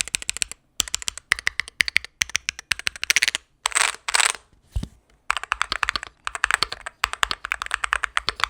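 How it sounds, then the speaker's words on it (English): Fast typing on an MCHOSE Ace68 Turbo mechanical keyboard with a metal switch plate and aluminum body gives a close, sharp, high-pitched clack. Dense bursts of keystrokes run throughout with short pauses between runs, and there is no talking. "So this is definitely like a clackier sounding keyboard."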